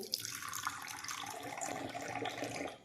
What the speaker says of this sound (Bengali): একটি চায়ের কাপে নিয়ে নেব কিছুটা ঈষদ উষ্ণ গরম জল